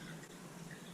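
Three cups of water poured over oats for homemade oat milk, a continuous close splashing stream with no voices.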